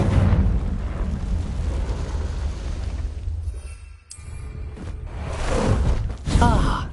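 Confringo blasting spell exploding in Hogwarts Legacy, a roaring burst of fiery blast noise that swells, briefly drops away, then flares again with crackling magical effects.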